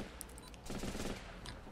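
Rifle fire in the video game Running with Rifles, a quick scattered burst of shots and rattling automatic fire, fairly faint and distant-sounding.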